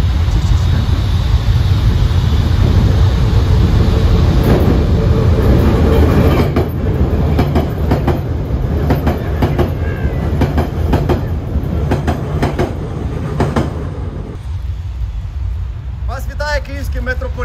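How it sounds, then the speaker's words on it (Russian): A metro train passes through an underground subway tunnel, a loud sustained rumble with rhythmic clickety-clack of wheels on rails, fading as it goes by. "Поезд."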